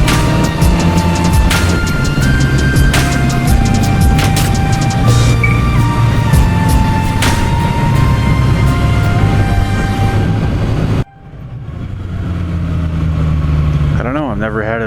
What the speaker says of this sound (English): Letting her rip on the CB900.